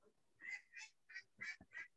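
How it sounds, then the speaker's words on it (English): Pet ducks quack in a quick series of five or six nasal calls, fairly close and clear, with no talking over them. "All I can hear is my ducks now."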